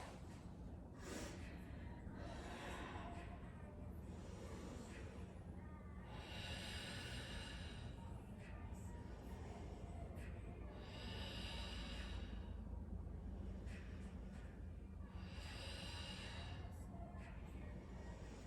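Slow, rhythmic breathing from someone holding a yoga lizard pose during a hip flow: about five airy inhale-exhale swells at steady intervals over a constant background hiss.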